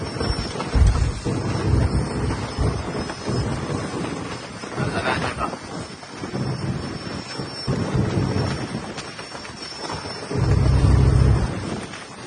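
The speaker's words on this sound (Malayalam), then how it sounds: "ഇപ്പൊ ഇത്തിരി മഴ ഒന്ന് കുറഞ്ഞെങ്കിലും നല്ല കാറ്റാണ് കേട്ടോ കടലില്." Strong wind sweeps over a fishing boat at sea and buffets the microphone in gusty waves, with deep booming rumbles rising and falling under a constant airy roar.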